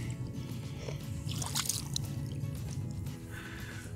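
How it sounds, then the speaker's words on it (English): Water draining out of a hot water heater tank, a soft continuous trickle and gurgle with a few brief splashy drips, quiet and steady throughout. "So I'll let this tank completely finish draining"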